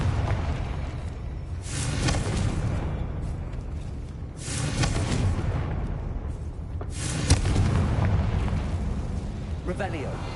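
Fiery Confringo spell blasts in the Hogwarts Legacy video game, several loud booming bursts with crackling rumble that swell and fade in waves, with a voice calling out the spell.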